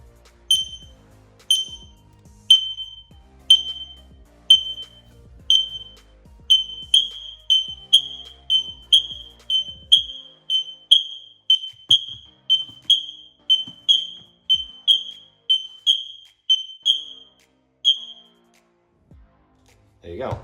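A row of X-Sense wireless interconnected smoke detectors chirping together during a test, sharp high beeps repeating in a fast steady rhythm of around twenty-five chirps, with faint low handling noise early on.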